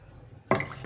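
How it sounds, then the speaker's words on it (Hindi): Water is poured into a pot of chicken vegetable soup, arriving as a sudden close splash and gurgle about halfway through that settles into a short watery trickle after a quiet start. "इतना हम पानी इसमें शामिल करेंगे जितना हमें सूप रखना है।"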